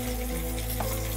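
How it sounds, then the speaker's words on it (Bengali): Pointed gourd (potol) frying in a pan gives a steady, even sizzle that runs unbroken from start to finish, close up and with no voices. "পটলগুলো ভাজা হচ্ছে।"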